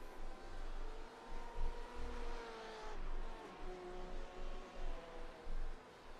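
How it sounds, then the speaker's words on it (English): A pack of race cars sweeps into turn 1 at Mount Panorama, engines droning steadily with rising and falling revs and overlapping pitch lines as they brake and shift together. "look at this group of cars here going into turn 1"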